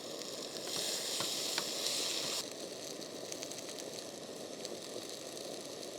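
Food sizzling in a hot pan at a campsite in an off-road vehicle area, a steady, close crackling hiss that runs loud for the first couple of seconds, then settles to a softer, continuous fry with no talking.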